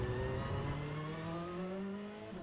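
A race car engine in the iRacing simulator drones loudly, its pitch sliding steadily downward as it decelerates through a downshift, heard alone without talk.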